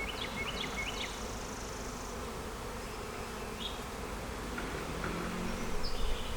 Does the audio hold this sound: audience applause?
no